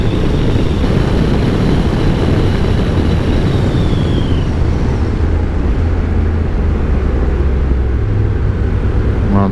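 A tractor engine passes on a road near Eceabat, heard from a moving motorcycle: a loud, continuous low rumble mixed with road and wind noise that fades slightly as the vehicle goes by.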